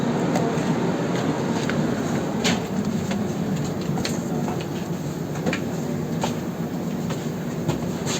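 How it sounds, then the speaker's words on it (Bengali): Steady low rumble and scattered clatter at a station as people board an AC 3-tier coach, with faint metallic clicks and bangs throughout and no speech. "এই যে এটা আমাদের ট্রেন, এসি 3 টায়ার। তো এখন আমরা ট্রেনে উঠছি।"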